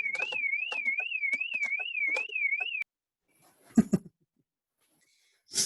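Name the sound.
car alarm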